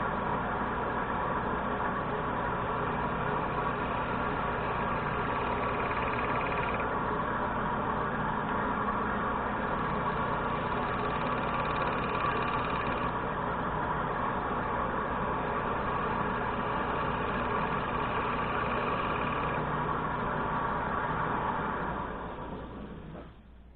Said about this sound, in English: I lift the handle into the wood as I roll that cutting edge to make these beads with a gouge.